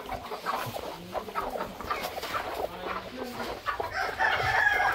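Free-range country chickens at a poultry farm near Pune, clucking and crowing together in their coop compartments, a steady busy flock chorus that grows a little louder toward the end, with no talking.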